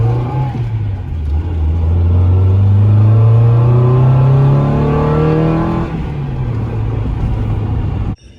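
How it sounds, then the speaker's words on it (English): A manual Honda Integra's engine pulls steadily, rising in pitch through a long acceleration, drops as a gear shifts, then accelerates again, heard from inside the car. "So we've taken the car for its first drive."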